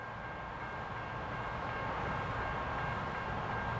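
A westbound Norfolk Southern 41N freight led by a GE C40-9 standard-cab locomotive rumbles past Yadkin Road in Chesapeake, Virginia, as a steady, continuous low roar of rolling railcars with no voices.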